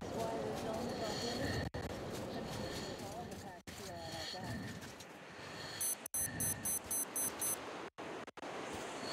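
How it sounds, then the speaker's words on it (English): Repeated short electronic beeps sound in a video game, a rapid series of evenly spaced tones coming in near the end over a busy game soundscape with speech. "Why is it beeping?"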